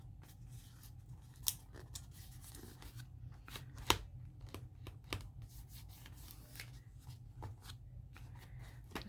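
Scissors snip through paper for a collage in a quiet room, a series of soft crisp cuts and rustles with two sharper clicks of the blades standing out.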